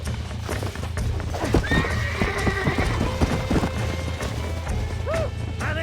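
Horse hooves clip-clop in the Western video game Red Dead Redemption. Several neighs and whinnies rise over the steady hoofbeats and scattered thuds.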